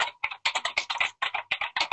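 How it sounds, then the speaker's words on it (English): Fast typing on a mechanical keyboard, a close burst of crisp clacking keystrokes in quick uneven clusters with brief pauses, no voices. "Nice mechanical keyboard."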